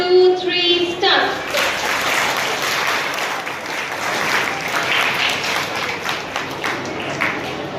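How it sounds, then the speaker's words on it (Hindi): An audience claps at a school annual function, a dense, steady wave of applause from a crowd that holds level for several seconds after a brief tonal sound at the start. "सभी लोग तालियां बजाने पर मजबूर हो गए"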